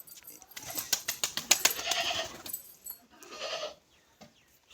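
Goat bleats in a rural Punjabi farmyard setting, several loud, wavering cries close to the microphone in the first half of the clip, a shorter call near the end, with faint background noise between.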